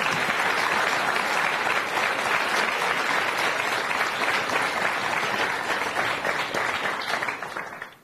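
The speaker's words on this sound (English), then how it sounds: "give a very warm welcome and a very big round of applause to our Prime Minister" Sustained, dense applause from a forum audience in Skopje welcoming the Prime Minister, loud and steady throughout before tapering off at the very end.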